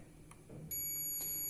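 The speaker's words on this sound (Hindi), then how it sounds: "हम मल्टीमीटर को बजर रेंज में चेक करेंगे।" A multimeter on its continuity buzzer range, checking a TV power supply board, gives a steady high-pitched beep that starts partway through and holds to the end, faint against a low background hum.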